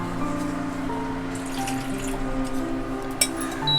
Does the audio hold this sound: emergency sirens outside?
no